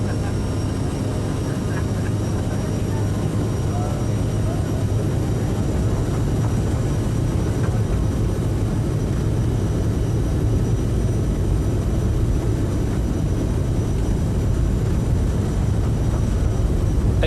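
Aerosoft CRJ9 jet engines on a Cemair flight in MSFS 2020 hold a steady, loud, continuous roar at takeoff thrust. The dense rumble stays unchanged throughout.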